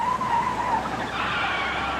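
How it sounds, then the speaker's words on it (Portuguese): A car brakes hard in a road-safety radio spot: a sharp, high tire squeal rises over steady road noise near the start, then fades into a sustained rushing hiss with no talk. "Chefe está freando."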